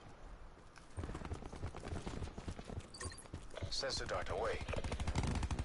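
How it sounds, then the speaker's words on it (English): Rapid bursts of gunfire from the multiplayer shooter Black Ops 4 crackle through a busy battle mix, with game announcer callouts and talk over the shots. "We're gonna lay down some suppressive fire."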